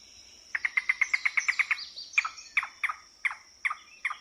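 A recorded yellow-billed cuckoo call: a fast run of about a dozen sharp, clucking notes, then slower, spaced knocking calls. Clear, close and alone, with no voices.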